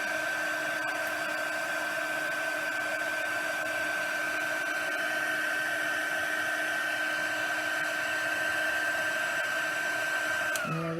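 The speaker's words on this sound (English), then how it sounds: "And then I will heat emboss that." Steady, continuous whine of a heat embossing tool blowing hot air for about ten seconds, loud and close with a constant high tone, then cutting off abruptly at the end.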